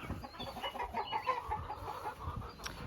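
A hen clucks softly in a chicken coop, a few low, close calls over faint rustling and ambient noise, with no talking.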